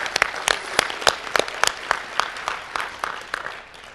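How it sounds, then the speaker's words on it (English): A convention audience applauds a Hall of Famer, a dense round of clapping with sharp individual claps standing out, fairly close, tapering slightly toward the end. "I'd like to give Warren a round of applause as a Hall of Famer."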